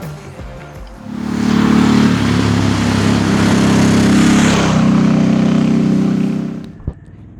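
Harley-Davidson Sportster S with the Revolution Max 1250T engine pulls away and accelerates, a loud close rumbling drone building after an idle and holding for several seconds before easing off.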